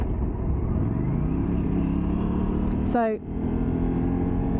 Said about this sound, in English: I went to downshift then without a clutch.